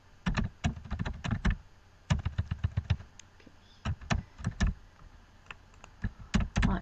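Typing an answer on a computer keyboard, close and fairly quiet, with quick clusters of key clicks separated by short pauses and no talking.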